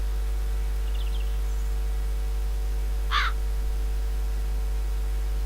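A crow in The Dark Eye: Chains of Satinav gives a single short caw midway, faint calls earlier, over a steady low hum of background ambience.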